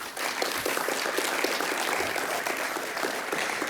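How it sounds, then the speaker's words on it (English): Audience applause at the end of a BSidesSF 2024 security conference talk, a dense, steady wash of many hands clapping throughout, with no speech over it. "please give him a second round of applause"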